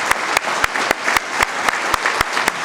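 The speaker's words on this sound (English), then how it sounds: "Let's give our founders a great round of applause, everyone." Guests at a Founders Day dinner applaud the founders with a dense, continuous round of clapping. A few sharp, loud claps close to the microphone stand out at regular intervals above the crowd.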